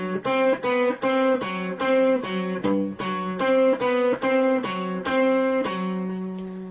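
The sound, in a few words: guitar playing measure 3 of a Bach piece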